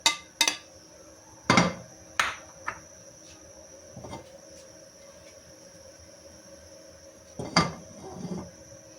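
A cooking pan, just used for roasting sesame seeds for sesame candy, being cleaned: a few sharp metallic clanks and knocks at irregular intervals, close and moderately loud, with quiet gaps between and no talking.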